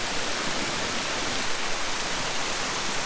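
Steady, dense roar of falling water, a waterfall cascading nearby at free hot springs in Italy, with constant broadband rushing and no pauses.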